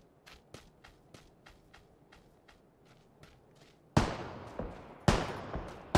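Footsteps in the video game PUBG tap along in a quick, even rhythm, faint at first, then sharp cracking gunshots burst in loudly and ring out over them.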